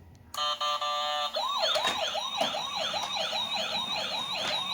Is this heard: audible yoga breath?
no